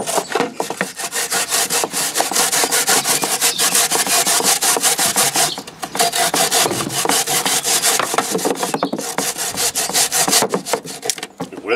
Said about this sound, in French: Ça c'est une râpe pays.